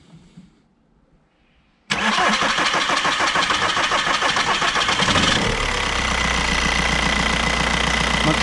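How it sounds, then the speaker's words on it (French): A VW/Audi 1.9 TDI 110 hp diesel with hard starting after an injection timing adjustment cranks loudly, catches and runs rough, then settles into a steady, low diesel idle. "on resserre et on réessaye le démarrage"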